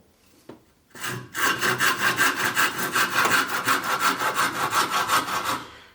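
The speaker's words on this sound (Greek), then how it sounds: "Προς το τέλος, που σχεδόν έχει κοπεί το ξύλο, αρχίζει και λεπταίνει ο ήχος που κάνει." A hand saw cuts through wood in steady, rhythmic back-and-forth strokes, loud and close, after a couple of brief knocks at the start, with the rasping fading out at the end.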